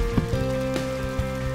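Rain falls steadily in the video game Ayo the Clown on PlayStation 4, a soft continuous patter with a few louder drops, over faint sustained tonal music.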